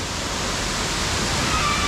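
A waterfall roars inside the sandstone cave of Buraco do Padre, a dense, steady rush of falling water that fills the space evenly from start to finish, with no voices over it.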